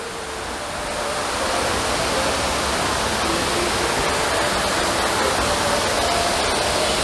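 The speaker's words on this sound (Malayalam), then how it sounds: "അതിൽ നല്ല പാല് പോലെ ഒഴുകുന്ന വെള്ളം." Water rushes steadily in a flowing stream, a broad, loud and unbroken gushing wash close by that swells slightly after the first second.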